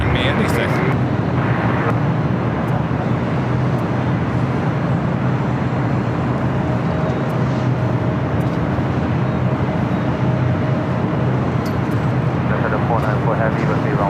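An airliner taxis at LAX, its engines giving a steady, loud broadband roar over a low hum that never lets up, with voices talking underneath.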